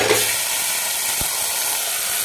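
Mutton chunks hit a hot pan of frying onions and bay leaves for Assamese-style dal gosht, giving a brief, close, steady hiss and sizzle.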